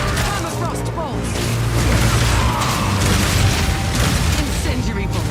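A crossbow fires permafrost bolts in the Path of Exile 2 video game, a dense, steady stream of mechanical clicks and bursting impacts during busy combat, with a voice talking over the action.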